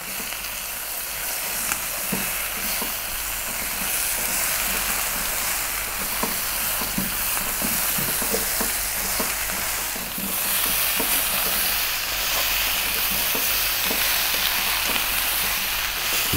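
Stewing beef fries with chili powder and cumin, a constant loud sizzle broken by repeated scraping and clattering as it is kept moving for the whole stretch, with no voices.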